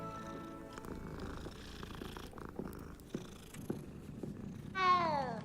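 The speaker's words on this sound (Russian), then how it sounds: "Ладно, кошку поглажу." A cat in a Hogwarts Legacy game purrs steadily while being petted, a soft continuous rumble close by, ending with a brief rising meow.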